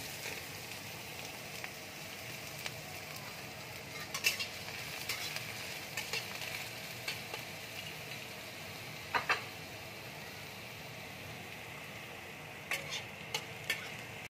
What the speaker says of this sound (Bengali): তেল দেখো গরম হয়ে গেছে। এবার আমি পেঁয়াজ কুচিগুলো দিয়ে দিচ্ছি।